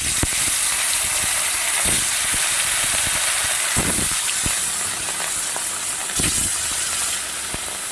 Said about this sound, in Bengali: তো এবার আমি একে একে মাছের পিসগুলো দিয়ে দেব আর ভেজে নেব।